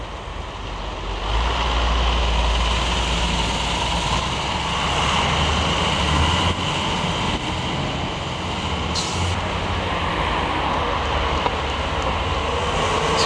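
Stagecoach Burnley and Pendle bus 137, from 1999, with its engine running as a steady loud low rumble that rises after a second and holds throughout.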